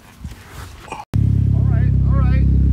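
Mitsubishi Evo X engine firing up after a brief pause, settling into a loud, close, steady pulsing idle, with someone talking over it before and during.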